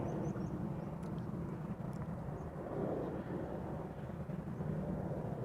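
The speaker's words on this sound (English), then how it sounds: "Embraer 190 arriving from Aberdeen." A KLM Embraer 190 jet on arrival from Aberdeen at Amsterdam Schiphol gives a steady, moderately distant low rumble and roar that holds evenly throughout.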